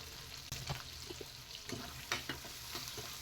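Onion and tomato sauté in a pan, giving a soft, low sizzle with light scraping stirs and a few small knocks, quiet and close, with no speech.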